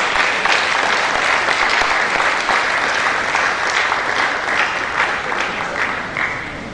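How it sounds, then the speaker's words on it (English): Audience at a registry summit applauding, dense sustained clapping at close range that holds steady for several seconds before easing slightly at the end. "Please, can we give her a round of applause for this?"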